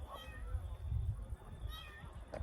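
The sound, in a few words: cat meowing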